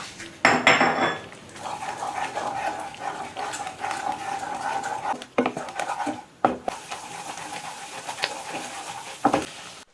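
Potatoes and bell peppers stir-fry in a pan with Indian spices. Loud scraping clatters of a utensil against the pan come in bursts over a continuous sizzle, with no voices.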